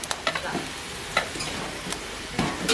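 Semiya milk payasam with cardamom stirred in a pot, a few soft spoon scrapes and clinks spaced out over a gentle simmering hiss, close and fairly quiet.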